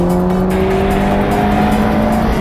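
A race car on the Virginia International Raceway circuit drones with a loud, sustained engine note and steady pitch, close and continuous throughout.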